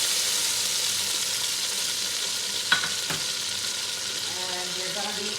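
Butter sizzles in a separate pot for a seafood crab boil, a steady broadband hiss that runs throughout, with one or two brief clinks near the middle and no talking.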